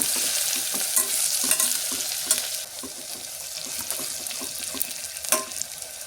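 Chopped onions fry in a pan with steady broadband sizzling while a utensil stirs them in repeated scraping strokes, close and fairly loud, with no voices.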